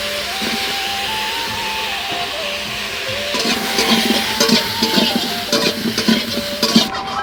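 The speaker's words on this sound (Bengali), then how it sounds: "তেলটা গরম হয়ে গেছে, এখন পটলগুলো দিয়ে দিচ্ছি" Pointed gourd (potol) frying in hot oil in a wok, with a steady sizzle throughout and louder stirring clatter and crackles building in the second half. No one speaks.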